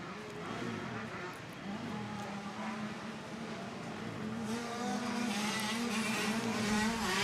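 Racing motorcycles roar around the Cessnock Motorcycle Club track during the Keith Allen Classic, a steady loud engine drone that rises toward the end as the riders chase the leader, with no talk.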